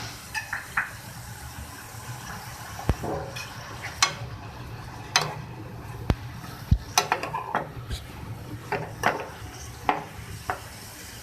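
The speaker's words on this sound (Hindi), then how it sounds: "इसमें जाएंगे टिंडे, जाएगा इसमें टमाटर" Apple gourd (tinda) and tomato go into a cooking pan, with scattered metallic clinks and scrapes of a utensil against the pan and a faint sizzle, irregular and close, with no talking.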